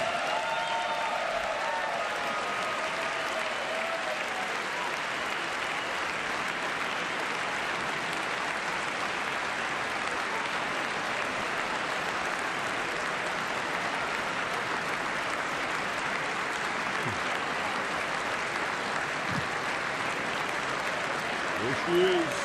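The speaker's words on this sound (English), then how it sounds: "as the First Lady enters the chamber to an applause." Steady applause filling a legislative chamber as the First Lady enters during a congressional address, a continuous wash of clapping from a large crowd lasting over twenty seconds beneath a talking voice.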